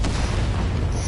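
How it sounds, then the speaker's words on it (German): A deep, loud booming explosion in the video game Genshin Impact, with a rumbling, roaring tail that fills the whole moment. "Diese Explosion!"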